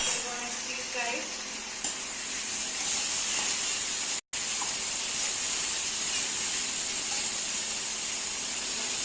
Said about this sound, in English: Now we are going to add carrots and some beans to it. We are going to deep fry it.